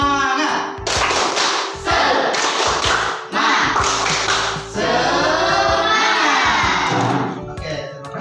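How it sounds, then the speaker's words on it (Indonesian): A standing group of schoolchildren in a classroom claps a rhythmic spirit chant together, loud and close, in repeated patterned bursts with short pauses and children's voices shouting along. "kita tepuk semangat sama-sama ya"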